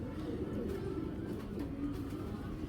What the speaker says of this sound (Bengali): এটা মাদি কবুতর